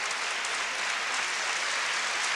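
A large crowd in the Parnasse hall at a 1993 European Cup handball match between Nîmes and Minsk claps steadily for goalkeeper Garbar, dense sustained applause filling the whole moment.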